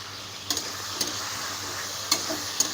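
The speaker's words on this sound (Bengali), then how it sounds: "দুবার নাড়ছি একটু নাড়িয়ে নিয়েছি" Beans and capsicum frying in a pan for a vegetarian navratan korma, with a steady low sizzle and a few sharp scraping taps from the spoon as it is stirred four times, close by and fairly quiet.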